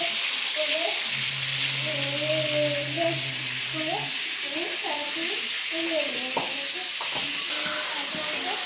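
Potatoes fry in oil with turmeric and salt, a continuous sizzle under a voice talking throughout, with a few clacks of a spatula stirring near the end.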